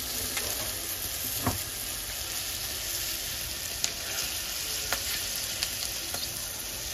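Chili powder sizzling steadily in hot oil in a home cooking pan, a continuous broadband fry with a few soft pops and stirring clicks scattered through, close and even, no voices.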